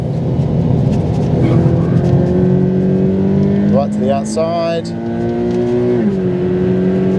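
A Subaru BRZ accelerates hard on a race track, its engine note climbing steadily before a gear change near the end, loud and close, with someone commentating over it.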